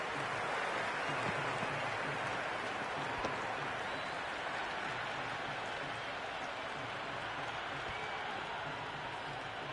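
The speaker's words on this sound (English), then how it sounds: "There's a buzz, a real buzz coming from the stands." A cricket stadium crowd at an IPL T20 match gives off a dense, continuous wash of noise, faint and distant, with no single voice standing out.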